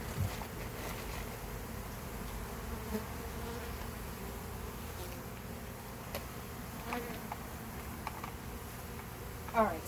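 Honeybees hum in a steady, soft drone around a hive during a bee removal, with individual insects buzzing past now and then; quiet outdoor setting with no talking.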